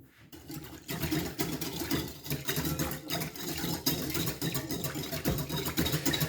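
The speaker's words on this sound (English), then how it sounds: "I'm going to whisk my mixture together." Milk bread mixture with maple syrup being whisked by hand in a bowl, a steady scraping, rattling churn that runs on continuously at moderate level with no talk.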